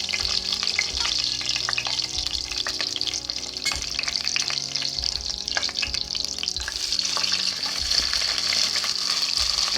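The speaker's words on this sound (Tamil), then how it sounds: "பட்டை, கிராம், ஏலக்காய் எல்லாத்தையும் இதில் போட்டுக்கலாம்." Whole spices and green chilies sizzle and crackle in hot oil for a chicken biryani, with a steady bright frying hiss across the whole span and occasional stirring knocks from a spoon in the pan.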